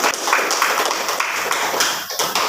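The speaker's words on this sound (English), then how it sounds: "Okay, give applause to Cindy." A classroom audience gives a short burst of applause, many hands clapping in quick, uneven slaps close by, with a faint voice beneath.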